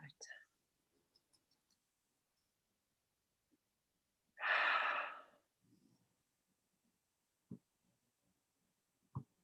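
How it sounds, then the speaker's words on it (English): Deep breathing in and out: a single soft, breathy exhale of about a second in an otherwise quiet room, with faint taps and small noises around it. "Deep breath in and out."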